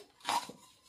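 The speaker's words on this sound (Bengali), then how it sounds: "ঢাকা দিয়ে দিলাম।" A lid set on a pan while an egg paratha cooks makes one short metallic clatter with a lighter knock just after, quiet and close.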